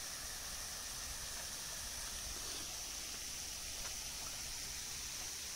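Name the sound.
water fountain running in a garden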